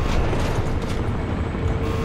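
Helicopter rotor rumble from the shooter game Crysis Remastered, a steady dense roar that holds at even loudness for about two seconds, with no voices over it.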